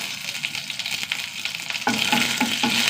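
Mustard seeds and dried red chilies sizzle in hot oil, with a busy crackle that grows louder and brighter partway through as stirring goes on. Nobody speaks.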